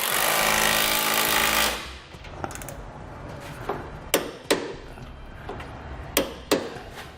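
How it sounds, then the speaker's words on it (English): A power tool runs in a loud, steady burst on the side base rails of a Demco Hijacker above-bed kit in a 2016 Chevrolet Silverado bed, followed by a series of sharp metallic clicks spaced a second or so apart. "We'll also tighten and torque the side of our rails."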